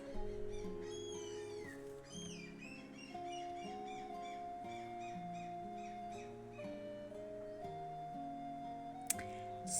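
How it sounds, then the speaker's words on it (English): Seagulls in modded Minecraft let out a cluster of rising, warbling cries early on, then fainter calls, all over steady in-game music with a clicking tick near the end. "Seagulls are being loud."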